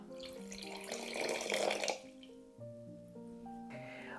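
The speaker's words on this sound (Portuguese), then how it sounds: "Meia xícara de água." Half a cup of water pours into a pan of sugar for caramel: a brief, fairly loud splashing rush lasting under two seconds beneath steady background music, which continues alone afterward.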